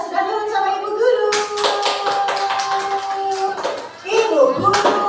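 Children in a classroom clap their hands in quick, sharp, irregular bursts, close and fairly loud, with a teacher's and children's voices sounding around and beneath the clapping.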